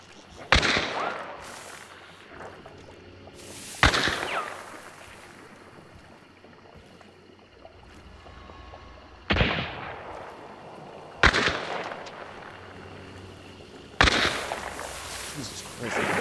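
Gunfire in the game Hunt: Showdown comes as five loud, sharp shots spaced a few seconds apart, each trailing off in a long echoing decay, over low ambient rumble.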